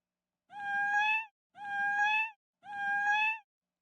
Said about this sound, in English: there are two meow joined together